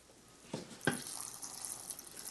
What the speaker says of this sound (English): I'll simply add a splash of water.